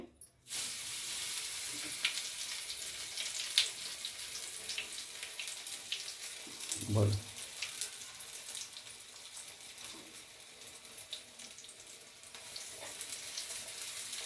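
Brinjal slices coated in oats and sesame shallow frying in hot oil on a tawa, giving a continuous bright sizzle with a brief low thud midway, close and moderately loud.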